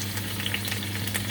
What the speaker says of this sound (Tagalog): Prito ko muna itong hipon.